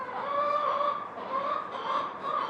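Hens cluck and murmur continuously close by inside a barn, a steady stream of soft, warbling fowl calls without pause.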